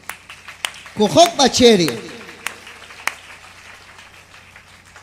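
A church congregation claps together during a sermon, a short burst of applause lasting about a second, with a preacher's voice speaking over it and continuing afterward.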